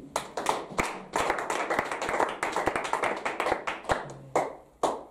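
A church congregation claps to acclaim Jesus, a burst of loud, close handclaps with sharp individual strikes in an uneven rhythm that swells and tapers over several seconds.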